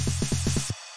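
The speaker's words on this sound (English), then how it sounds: "so I added this little crash." Short crash hit in a tech house production, sounding at the end of a bar of punchy low kick-like thumps before the drop, with a bright noisy wash that cuts off abruptly.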